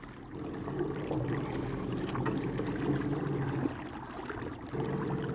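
A modified electric trolling motor, mounted lower and a little draggy with age, pushes a boat upstream on a river at a steady drone, with water trickling and lapping around the hull throughout.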